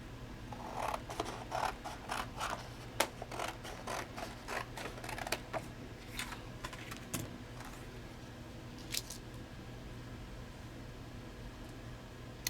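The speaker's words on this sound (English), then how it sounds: "I'm gonna grab a piece of white paper. Perfect. Cut it in half." Scissors snip through a sheet of white paper at a craft table, cutting it in half with a run of crisp, close clicks and slices that thin out toward the end.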